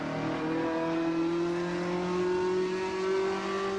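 A race car engine in Assetto Corsa at Mosport, a steady high-pitched whine with a slowly rising tone, loud and continuous with no talking over it.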